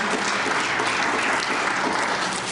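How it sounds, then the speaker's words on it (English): Steady audience applause at a talk on addiction recovery, honoring a man sober for seven years; dense, even clapping fills the whole stretch with no voices over it. "clap for him"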